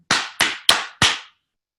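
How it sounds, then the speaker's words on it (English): Four sharp hand claps at an even pace, each ringing briefly before the next, loud and close with no talking. "what I do is I clap"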